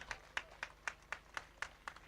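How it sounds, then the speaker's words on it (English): Faint, evenly paced hand claps at a graduate induction ceremony for foreign Medical Laboratory Science graduates, about four sharp claps per second in a steady rhythm, thin and distant with no talking. "Please help me make this one a very loud applause."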